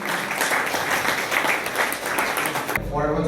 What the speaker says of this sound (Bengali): একটি স্মারক আবার জোর করে করতালি দিন